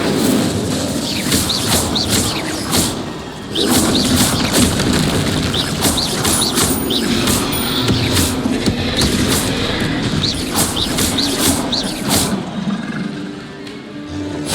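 Spell effects from Hogwarts Legacy, Incendio fire bursts and Confringo explosive blasts, crackle and boom repeatedly over dense game ambience, with sharp bright strikes recurring every second or so throughout.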